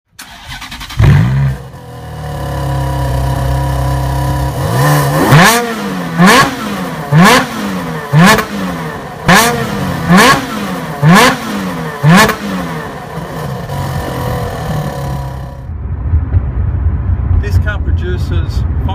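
A 503 bhp Ferrari 430 Scuderia engine starts and is revved hard, producing a loud series of about eight sharp rising-and-falling revs in a steady rhythm before settling back to idle.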